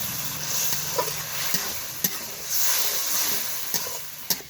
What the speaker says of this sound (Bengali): এইখানে দিয়ে দেব চিংড়ি মাছ হলুদ লবণ মাখানো চিংড়ি মাছ